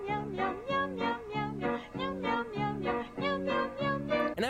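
A jingle sung entirely in cat meows, with repeated rhythmic meowing phrases in a steady bouncy pattern, loud and continuous with no talking.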